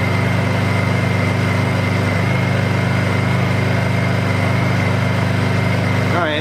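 A Honda 2000i generator runs steadily up close, an even, continuous buzzing engine drone with a constant hum that holds level throughout, without pauses or changes in speed.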